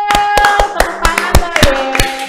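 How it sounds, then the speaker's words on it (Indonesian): Scattered, fairly close hand claps from a small audience at an indoor talk-show taping about football supporters in Semarang, Indonesia: about a dozen sharp, distinct claps in a loose rhythm, with a faint voice underneath. "Tepuk tangan"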